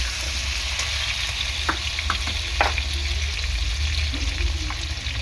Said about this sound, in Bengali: বেশ কিছুক্ষণ ধরে আমি নাড়াচাড়া করবো।